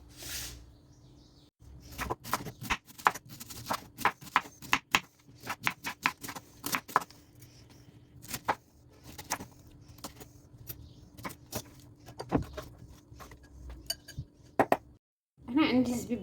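Knife blade tapping and clicking repeatedly against a board or bowl while lychee and pineapple salad ingredients are cut, a steady irregular series of sharp close knocks with quiet pauses between.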